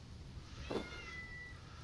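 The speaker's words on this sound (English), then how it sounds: "I have no idea what this cat wants." A house cat meows once in a short, faint call partway through, over a low steady background hum with no talking.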